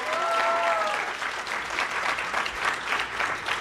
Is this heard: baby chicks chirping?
no